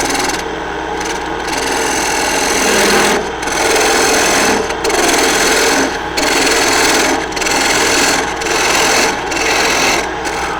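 A wood lathe spinning at about 1200 RPM turns the tenon of a shallow two-handled quaich bowl, the cutting tool rasping loudly and close in long, steady bursts separated by brief pauses.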